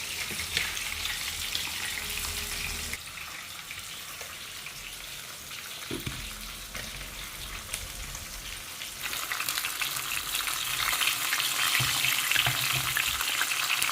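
Fish pieces fry in hot oil until crisp for a fish curry, a continuous hissing sizzle that dips midway and swells louder toward the end, with a faint knock or two and no talking.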